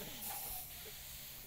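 Ale sprays out of a container in a steady hiss that fills most of the short stretch, with a burst of excited voices nearby.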